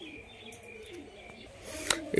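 Soft calls and faint chirps from nearby Kolkata-line Giribaj pigeon chicks over a quiet background, with a brief flutter near the end.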